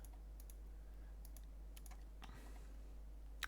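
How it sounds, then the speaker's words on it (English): Quiet clicking of a mechanical keyboard with soft, quiet switches, scattered light keystrokes in small clusters over a low steady hum, faint and close. "my keyboard's mechanical as well. It's just the switches are quite quiet"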